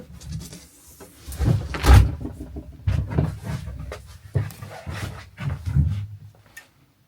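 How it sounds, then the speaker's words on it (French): A door being opened in a completely dark room, heard as a series of close knocks, clunks and rattling handling noises with uneven rhythm and no talk over them. "je vais ouvrir la porte et on va voir si ça déclenche"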